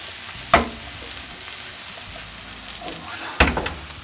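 Shallots frying and caramelizing in a pan, a soft continuous sizzle with two sharp clattering bursts of stirring or utensil contact.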